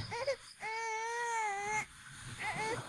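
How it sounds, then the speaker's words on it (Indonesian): A baby's drawn-out wailing cry at night in a horror film, loud and close, with a long sustained sob in the middle flanked by shorter whimpering cries. "Kok ada suara tangisan bayi malam-malam begini?"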